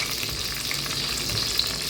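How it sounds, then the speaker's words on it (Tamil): Cinnamon, fennel and cardamom frying in hot oil inside a pressure cooker give a steady, close crackling sizzle that holds evenly throughout with no voices. "பட்டை, சோம்பு, ஏலக்காய், இதெல்லாமே வச்சு லைட்டாக ட்ரிசில் ஆகிட்டு இருக்கும்போது"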